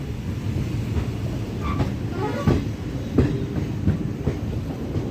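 Passenger express train on the Guntur to Rayagada route leaving Duvvada, a steady loud rumble of wheels on rails from inside the coach with a few rhythmic clacks and faint squeals of wheel on track.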